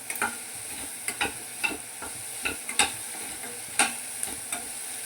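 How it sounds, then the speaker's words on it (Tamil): Onions sautéing with salt in a pan for onion chutney, quiet sizzling under repeated scraping stirs at an uneven rhythm, close with no talk. "இதை அப்படியே கொஞ்சம் நேரம் அப்படியே கிண்டிக்கிட்டே இருந்தீங்க அப்படின்னா அதில் உள்ள ஈரப்பதம் எல்லாமே வெளியே வரும்"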